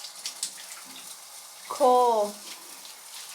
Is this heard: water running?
yes